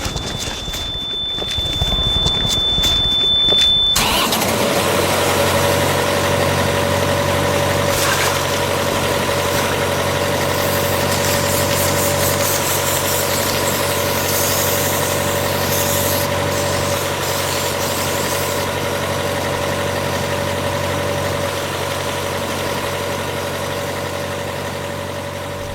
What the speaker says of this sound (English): just try and listen to see if you can hear the engine